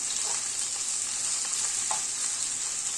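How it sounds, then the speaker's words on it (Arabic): Sausage stir-fried with garlic in a pan, an even, loud hiss of sizzling oil throughout with faint stirring scrapes, no voices. "نحط 3 توم كده، نقلب بقى كله مع بعض كده على السريع"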